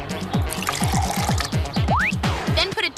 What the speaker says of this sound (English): Just add a half a cup of vinegar to a half a cup of water.